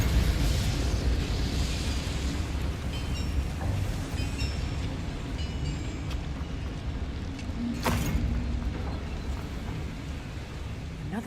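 The Confringo fire spell in Hogwarts Legacy sets off a long, roaring rumble in a mine, a dense, crackling blast that fills the space and carries on for several seconds, with a sharper crack partway through.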